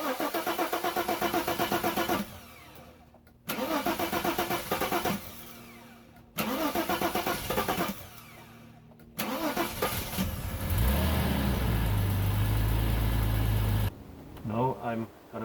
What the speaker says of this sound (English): Now I'm gonna put the plug back on and see if it starts now.